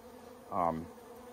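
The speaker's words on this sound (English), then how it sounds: "Fat drones flying around." A single buzzing honeybee drone passes close by a Warré hive in winter for a moment, its low drone swelling and fading against a quiet background hum.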